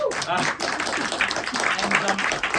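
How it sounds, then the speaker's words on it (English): Audience applause at a close-up magic gala during a festival, a steady patter of clapping from a small crowd with voices mixed in underneath. "Give them a big clap."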